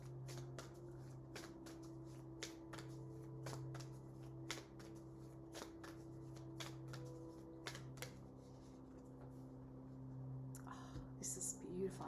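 Rebecca Campbell oracle cards are shuffled close by in quick, steady riffling flicks that repeat for several seconds, soft and crisp in an otherwise quiet room, with faint rustling near the end.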